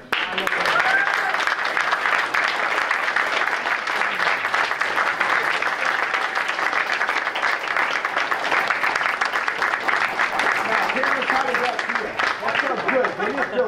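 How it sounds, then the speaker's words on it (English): A large crowd at a school board meeting applauds steadily and loudly for over ten seconds, dense clapping that stays full throughout before thinning slightly at the end. "let us give you a round of applause"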